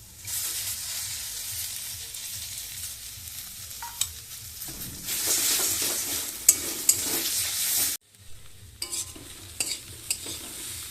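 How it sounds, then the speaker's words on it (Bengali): Two eggs with chopped onion and green chilli fry in a pan and are stirred. Scraping strokes come close and clear over a crackling sizzle, which drops off briefly near the end and then resumes. "দেখেন একদম ভালো করে ঝরঝরা করে ভেজে নিয়েছি ডিম পেঁয়াজ একদম ভাজা হয়ে গেছে"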